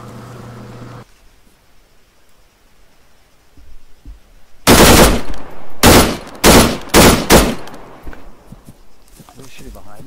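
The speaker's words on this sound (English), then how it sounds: "Who's shooting behind us?" Gunfire from somewhere behind in the shooter game Project Argo: a handful of loud, sharp shots in an uneven sequence after a quiet stretch, with people talking faintly before it.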